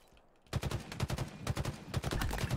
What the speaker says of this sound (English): the trick to this is just keep shooting until you shoot them